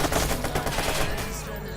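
Gunfire in the Watch Dogs video game: a dense, continuous barrage of rapid shots, loud and close, filling the short stretch without pause.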